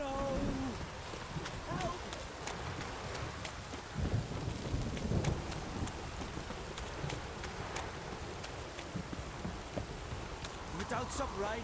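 Steady rainfall with rumbling thunder in the video game The Witcher 3: Wild Hunt, a continuous dense hiss filling the whole stretch, with a voice talking over it.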